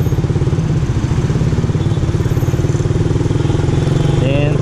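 A Suzuki Raider R150 Fi motorcycle engine idles loudly in slow traffic with the clutch held, close to stalling, a rapid regular chugging pulse throughout while a rider talks over it.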